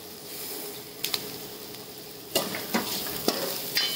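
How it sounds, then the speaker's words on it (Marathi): Spices tempering in hot oil for a spicy Marathi tikhat dal with yellow masala and coriander, a low sizzle broken by a few sharp crackles and bursts of louder frying near the end, no voices. "खमंग अशी फोडणी मस्त बसली,"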